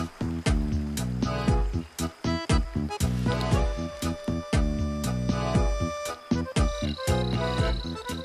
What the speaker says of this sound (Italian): questo maschio intona un gracidio appassionato per conquistarsi il favore della femmina